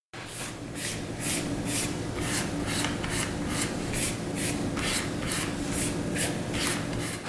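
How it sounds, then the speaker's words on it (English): Fingertips rub back and forth across a sanded chlorinated rubber suit surface, making about a dozen close, evenly spaced rasping strokes with no other sound. "It may even make a slightly different sound when rubbing your fingers across it."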